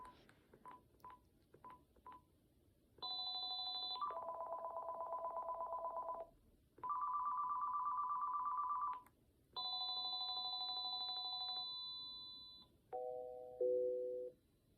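A series of short electronic beeps leads into a Panasonic KX-TG5100M cordless phone ringing in sustained, buzzy tonal bursts separated by pauses, ending with descending tones.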